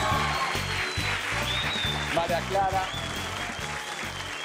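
Applause rises from a studio audience on a children's comedy imitation show, a steady wash of clapping running under someone talking over it, with music playing beneath.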